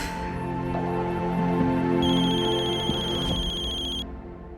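An electronic phone ringtone plays a repeating melodic pattern for about four seconds, then cuts off, with no one talking.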